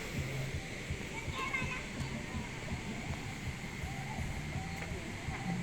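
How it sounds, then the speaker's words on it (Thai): A waterfall in Saraburi, Thailand gives a constant rushing wash of water throughout, with voices talking over it. "โอ้น้ำตกสวยอยู่นะเพื่อน"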